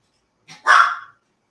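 A single sharp yip from a small dog, brief and close, preceded by a faint short whimper in otherwise quiet surroundings.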